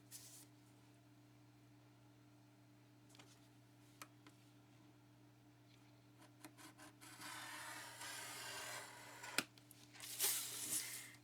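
Quiet scratching and rubbing as a scoring tool is drawn along purse material on a scoreboard. Faint ticks come first, then a louder sustained scraping stroke near the end over a low background hum.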